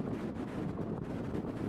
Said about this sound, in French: Le vent veut se faire remarquer encore.